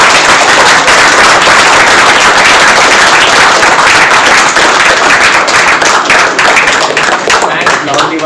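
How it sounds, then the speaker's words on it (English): Loud, dense clapping from a devotional audience fills the room without a break, a continuous close patter of many hands thanking a Swami Maharaj after his talk on leadership. "we thank Maharaj by a round of applause everyone"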